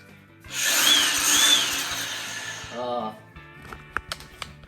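A power tool cuts through bolts on a shock absorber for a 1980 Pontiac, a loud, steady whine and grind running about two seconds before stopping, followed by a few sharp clanks of metal.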